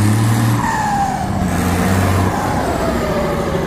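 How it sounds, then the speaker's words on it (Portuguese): A 1280R farm tractor with a Bosch injection pump is revved hard, its diesel engine roaring loud and steady at close range with slight rises and falls in pitch throughout. "Ó, o Betinho já tá dando umas aceleradas no"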